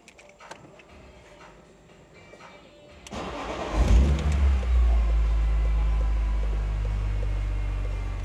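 A BMW E46 M3 with the S54 engine starts after a few soft clicks: the starter cranks briefly, the engine catches with a loud rev, then settles into a steady, rumbling idle, heard up close.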